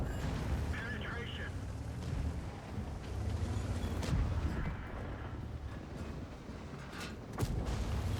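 A tank (SPHT) firing high-explosive shells in a video game: repeated booms and bursts within a dense battle soundscape, with a voice talking over the steady din.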